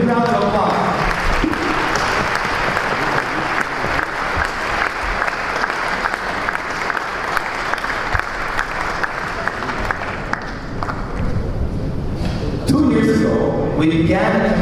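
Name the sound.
audience applause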